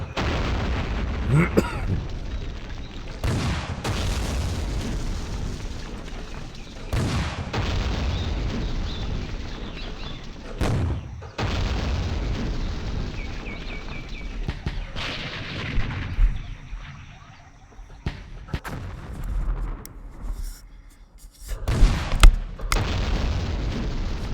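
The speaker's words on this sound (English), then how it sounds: "Oh, artillery hit us." Artillery shells exploding in the wartime strategy game Campaign Series Rising Sun, a run of loud, deep booms and blasts spread across the stretch, some sharp and close, others rumbling, with someone commenting between hits.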